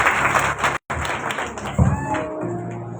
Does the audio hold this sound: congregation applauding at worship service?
yes